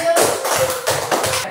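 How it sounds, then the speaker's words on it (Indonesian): A classroom of pupils clapping their hands together, a short burst of several quick rhythmic claps, close and fairly loud, with faint voices mixed in. "Dah, tepuk tangan."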